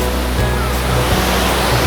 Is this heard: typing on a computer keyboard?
no